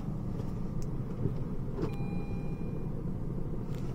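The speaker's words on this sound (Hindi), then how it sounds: "जैसे मैंने कार ऑन की है अभी" A Tata Tiago XT 2021 car engine idling just after being switched on, a steady low rumble heard from close by with a faint electronic chime tone and light clicks over it.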